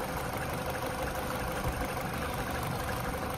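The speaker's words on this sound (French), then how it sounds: "En écoutant tranquillement comme ça, le moteur il a l'air de tourner assez bien." A Citroën DS3 VTi 120 petrol engine idles just after a spark plug change, a steady, even hum with a faint rapid ticking, heard up close with no voices.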